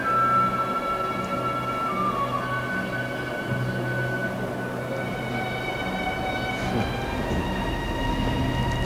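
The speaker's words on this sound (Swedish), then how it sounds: "Fridhemsplan, tunnelbanan." A Stockholm metro train runs through Fridhemsplan station, with a loud, steady rumble of wheels and sustained high metallic squeal tones that persist throughout and shift slightly in pitch.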